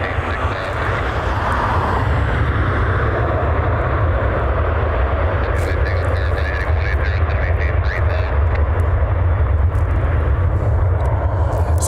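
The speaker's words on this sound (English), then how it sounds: "we have a Delta Airlines 737. It should be flight 2091 out of Atlanta. Touching down over there on runway 6 left." A Delta Airlines Boeing 737-900ER touches down on runway 6 left, its engine roar a steady, broad rumble that fills the whole stretch without pause, heard from a spotting point off to the side of the runway.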